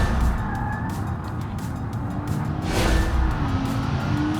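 Steady, fairly tame engine drone from a Rocket E-TK car in BeamNG, holding a constant hum with a slight swell near the middle, loud and alone.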